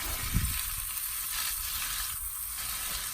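Beer butt chicken sizzles and fries in a skillet underneath, a steady close crackle with a brief louder pop near the start.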